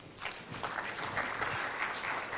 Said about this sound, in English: Let's give a round of applause as well